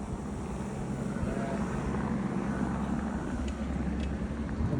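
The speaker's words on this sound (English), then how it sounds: "look at that chopper's landing like right there." Helicopter coming down to land close by in a residential court after Florida hurricanes, a steady low rotor and engine rumble that holds loud and constant throughout.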